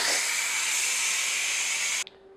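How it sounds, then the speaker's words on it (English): Steam hisses loudly and steadily from a Ninja Foodi pressure cooker as the pressure is released, a broad close rush that cuts off abruptly near the end, followed by a faint click. "So now we got to release the pressure before we start the air crisping"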